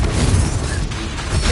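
Spell explosion in the video game Hogwarts Legacy, a loud, close, booming burst with a rumbling low end that fills the brief moment with no voices over it.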